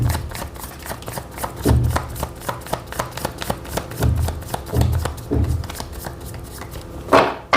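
A deck of tarot cards is shuffled close up in a steady run of quick riffling flicks and soft slaps, with a few louder thumps as the cards are squared, ending on a sharp final riffle.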